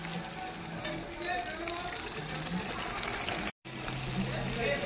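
Spice masala sizzling in oil in a pan for Gondhoraj lemon chicken, a dense continuous frying hiss with stirring scrapes, close and loud, a brief dropout near the end, with a voice talking over it.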